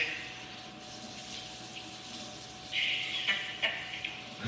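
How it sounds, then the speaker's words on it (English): Water runs from a sink tap in a soft, steady stream, quiet and close, swelling into a brighter splashing gush partway through before easing again. "Is that sink water getting hot enough by the bar?"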